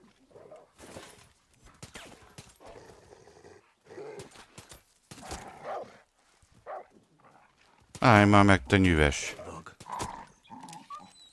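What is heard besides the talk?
dog barking in video game Far Cry 6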